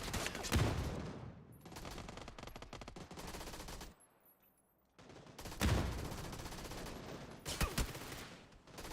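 SMG hip fire in the PUBG video game, with rapid automatic bursts of gunshots and a brief pause midway before more loud bursts, with no talking.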